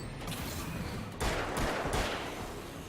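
Gunfire in Alan Wake's American Nightmare, a PC game from 2012: a quiet bed of game ambience, then a loud cluster of shots from about the middle of the clip, with bursts packed closely together. Nobody speaks.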